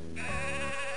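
A sheep bleats once in the video game Mother 3, a short wavering nasal cry lasting about a second, clear and alone.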